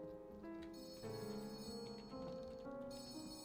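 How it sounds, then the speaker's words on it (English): A telephone rings in a ghostly mail-sorting video game, a sustained electronic bell-like trill over layered game music, steady and moderately quiet, with no voices. "The phone is ringing."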